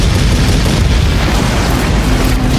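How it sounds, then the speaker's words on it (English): Garrison cannon fire against an approaching Titan in the Attack on Titan anime: a continuous loud, booming roar of bombardment with dense low rumble throughout, no talk. "the garrison fires cannon rounds at the approaching Titan"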